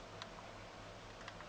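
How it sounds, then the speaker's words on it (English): Keys clicking on a Rii mini keyboard in a quiet room: a few faint, sparse taps over a low steady hum, with two slightly sharper clicks standing out. "typing on the keyboard."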